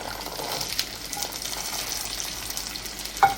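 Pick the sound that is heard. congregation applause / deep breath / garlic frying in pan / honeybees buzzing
garlic frying in pan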